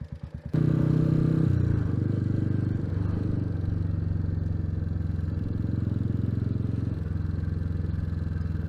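A Royal Enfield Meteor 350 starts with a few low chugs, then settles into a steady, loud, close single-cylinder thump while being ridden, with a brief shift in tone partway through and no talking.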